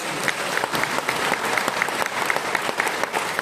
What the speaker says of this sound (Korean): 우리를 귀한 장로와 권사로 세워주신 하나님께 먼저 영광의 박수를 보내드리겠습니다.